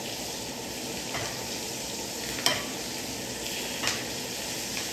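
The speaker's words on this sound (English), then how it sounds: "Then you can start to baste." Pan-seared chicken sizzling steadily in butter while being basted, a continuous close fry hiss broken by a few sharp spoon scrapes and spatters.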